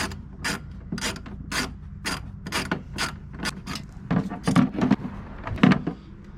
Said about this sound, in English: See if you can operate a ratchet without smacking the sides.